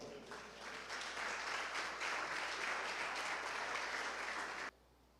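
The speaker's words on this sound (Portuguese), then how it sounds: "Diga amém, aplauda o Senhor." Congregation clapping in praise during an evangelical church service, a dense, fairly distant wash of applause that rises, holds steady and then cuts off abruptly near the end.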